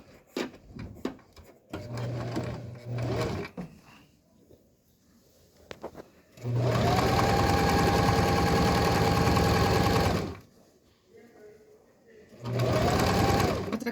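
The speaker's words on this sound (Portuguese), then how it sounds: "Vou lá pra máquina. E vamos costurar." A sewing machine stitches patchwork fabric for a quilt, running in steady bursts: a short run, then a long continuous whir of several seconds and another short run, with a person talking quietly in the gaps.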